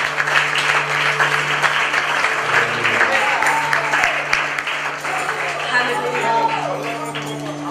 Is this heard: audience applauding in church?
yes